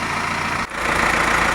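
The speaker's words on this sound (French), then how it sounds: "il a un tracteur avec le semoir, il va semer" A tractor hitched to a seed drill runs with a steady, loud engine drone, close by and continuous, with only a brief dip partway through and no voices.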